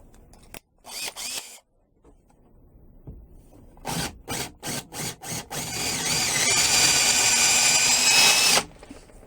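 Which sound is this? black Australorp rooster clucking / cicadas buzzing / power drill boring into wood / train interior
power drill boring into wood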